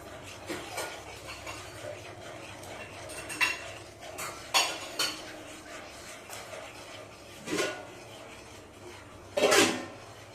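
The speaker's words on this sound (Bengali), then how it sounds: "এবার আঁচটা কমিয়ে এটাকে হালকা করে এটাকে মিক্স করতে দেবো আমরা" A spoon or spatula stirs a masala semolina idli mixture in a metal pan over low heat, giving soft scraping with a few sharper clinks against the pan, close by, with no talk.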